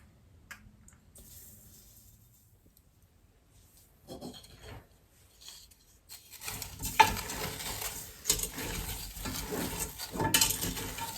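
Sugar being stirred into red onions in a pan for chutney: quiet at first with faint scrapes, then from about six seconds a louder run of spoon scraping and soft sizzle continues to the end.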